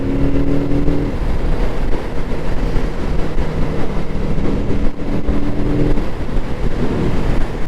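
A Kawasaki Z650RS retro motorcycle accelerates hard, its engine a loud, steady roar with a rising tone around the middle, heard close with rushing wind noise and no voices.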